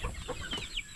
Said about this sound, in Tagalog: Yung manok natin.